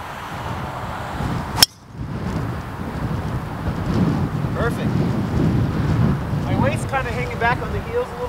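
Steady wind rushes and buffets the microphone on a golf course in Arizona, a broad continuous roar with one sharp click or impact near the start and brief faint chirps later.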